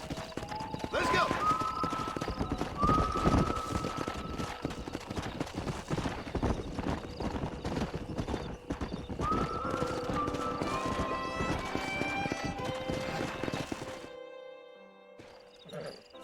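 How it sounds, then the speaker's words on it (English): Horses gallop in the Red Dead Redemption video game, with steady rapid hoofbeats and occasional neighs and whinnies, close and continuous, fading out near the end. "We got some fine horses."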